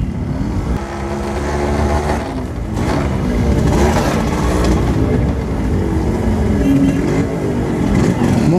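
A modified old Yamaha RX 100 two-stroke motorcycle with drum brakes rides through a narrow alley in Nepal. Its engine note stays loud and close, rising and falling with the throttle the whole way. No voices cut in.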